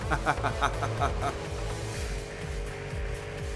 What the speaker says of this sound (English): I just love that screaming V8.